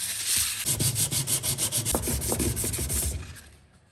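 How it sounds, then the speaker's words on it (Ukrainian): A metal gun bolt is sanded flat with 500 and 1000 grit sandpaper in quick, rhythmic back-and-forth strokes, close and scratchy, slowing and fading at the end, with no speech. "І зараз ми будемо зашліфовувати ось ці площини для того, щоб вони були рівні."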